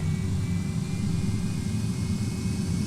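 Jet engines of an MD-88 airliner in X-Plane 11 spooling up for takeoff, a steady loud roar with a thin high whine holding level for the whole stretch.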